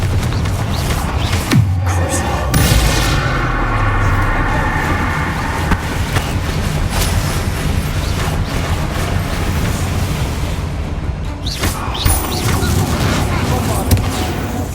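Bombarda blasting spell going off in Hogwarts Legacy, a dense rumbling boom with crackling debris sustained over busy game background, with sharper bursts near the start and end.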